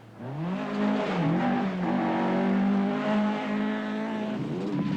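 A 1983 rally car on the Scottish Rally roars past at close range, its engine note rising and falling in loud, sustained revving for the full stretch with no talk over it.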